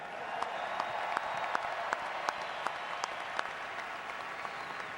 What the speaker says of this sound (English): Round of applause for our coaching staff.